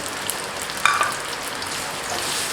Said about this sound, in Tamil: வெங்காயம் நல்லா வதக்கட்டும்.